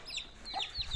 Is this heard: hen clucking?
yes